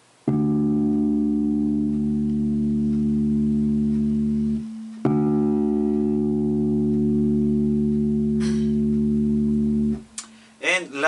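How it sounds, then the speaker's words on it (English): The string tuned to D is plucked twice, and each steady harmonic tone sustains for about five seconds before a short burst of speech closes the clip. "it's the string that codes for the tone D, and it sounds something like this."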